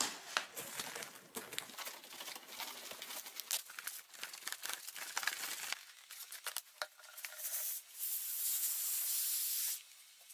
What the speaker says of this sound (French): Il suffit désormais de retourner le tout afin de remplir le ballon avec de la farine.